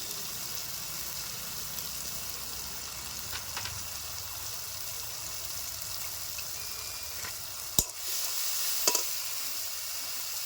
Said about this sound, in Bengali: একটু জল দিয়ে আমি মশলাটাকে ভালো করে কষিয়ে নেব